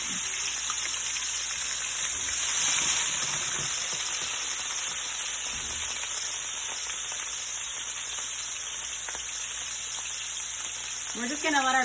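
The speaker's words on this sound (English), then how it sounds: "We're just gonna let our veggies cook for a couple minutes because they were frozen" Frozen vegetables fry in canola oil in a pan, giving a continuous close sizzle and crackle of hissing, popping oil that holds steady throughout at a moderate level.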